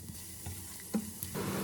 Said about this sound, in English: Add your chopped garlic and saute until fragrant.